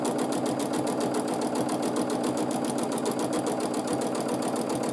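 A sewing machine runs steadily during free motion quilting, its needle hammering in a fast, even rhythm at constant speed with the pedal held lightly, close and continuous with no pauses.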